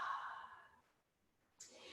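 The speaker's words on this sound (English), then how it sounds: "Exhale." One soft exhale during a seated yoga stretch, airy and close, trailing off into near silence before a faint new breath begins.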